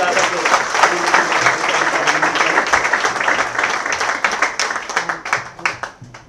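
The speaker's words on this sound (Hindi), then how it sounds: "श्रीमती रेखा गुप्ता जी, एक बार मैं निवेदन करूंगा जोरदार तालियां बजा सकते।" Loud, sustained applause from an audience at a large Hanuman Jayanti event in Delhi, steady dense clapping that thins out toward the end.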